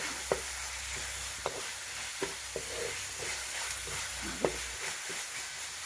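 Flattened rice upma fries in a pan with turmeric powder in a village kitchen: a faint, even sizzle broken by several quiet spatula taps and scrapes spaced about a second apart.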